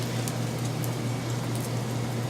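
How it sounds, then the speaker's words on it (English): Breaded chicken pieces frying in a pot of hot oil, giving a steady, close, dense sizzle and crackle that holds constant with no talking. "we're going to lift up and drip off the excess into our hot oil that's ready"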